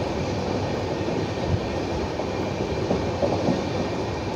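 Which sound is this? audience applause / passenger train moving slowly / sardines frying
passenger train moving slowly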